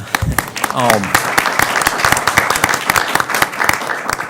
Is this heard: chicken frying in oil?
no